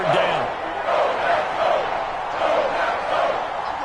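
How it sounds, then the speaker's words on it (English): A video game football stadium crowd roars and swells in rolling waves ahead of a big third down, loud and continuous, with a voice speaking over it. "The crowd getting into it as we come up on a big 3rd down."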